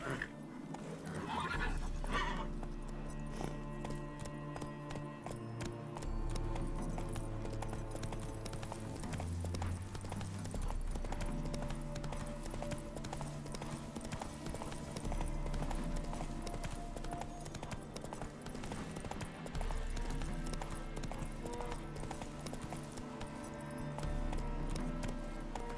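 A horse gallops in The Witcher 3 with steady, rhythmic hoofbeats over a long stretch, joined by an occasional whinny and layered over a continuous low musical score.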